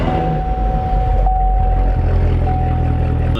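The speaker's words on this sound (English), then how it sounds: "The sound of this car definitely makes up for all of its flaws that it has." Chevrolet Corvette Z06 engine starting up, a loud steady close rumble with a deep low drone that settles and holds, joined by a faint constant tone throughout.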